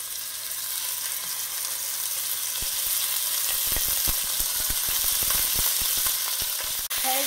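Beef pieces searing in a hot pot for stew, a steady loud sizzle with sharp crackles and pops building as more pieces go in, no talking.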